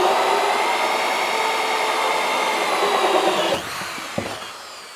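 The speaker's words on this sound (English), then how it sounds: "This is a much lower RPM drill" A steady, loud whirring of a low-RPM corded electric drill drilling continuously, then spinning down near the end with a brief clunk.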